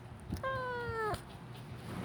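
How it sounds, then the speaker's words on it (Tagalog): A single drawn-out cat meow, clear and close, with faint background noise before and after. "narinig niyo ang baklang pusa"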